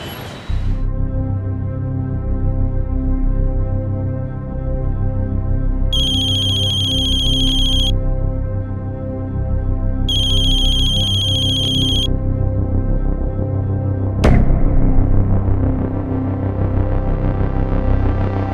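A telephone rings during a call in a crime drama: two separate electronic ring bursts over a steady low hum, followed by a sharp click near the end.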